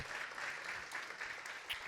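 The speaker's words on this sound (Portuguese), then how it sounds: "Dá um glória a Deus e aplauda Jesus, gente." A church congregation applauds in a short, faint burst of steady clapping heard from a distance.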